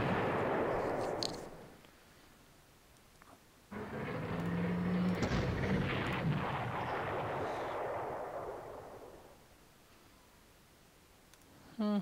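Heavy artillery bombardment in the Panzer Corps wargame, set in the streets of Moscow: two loud, rumbling blasts, the first about two seconds long and the second a sustained roar of several seconds, each decaying into quiet.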